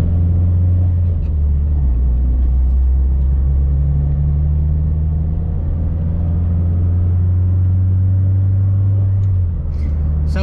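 A Honda DC5 Integra Type R engine drones at a steady low rumble while cruising, its deep exhaust note through the rear muffler even and unhurried, with no sharp revving.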